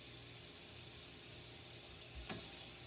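Onions frying in a pan and being stirred with a spatula: a steady, even sizzle with a brief scrape partway through, fairly quiet and with no talking.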